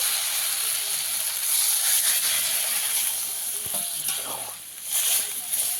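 Water hits a hot pan of spiced, well-browned masala for a jackfruit and prawn curry, bursting into a loud, close steam hiss and sizzle that swells and fades in waves over several seconds.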